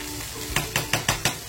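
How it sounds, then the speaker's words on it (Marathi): Tol fish fries in a pan under a steady hiss, broken by five evenly spaced scraping strokes near the end, close and fairly loud. "इकडे मच्छी फ्राय होते"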